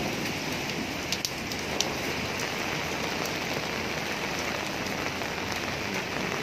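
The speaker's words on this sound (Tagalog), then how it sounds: "Kahit ulan, ayan, kahit ulan, busy-busy pa rin yung daan." Typhoon rain pours onto a busy street in a steady, dense hiss of drops that stays even throughout, with a few faint knocks and no talk.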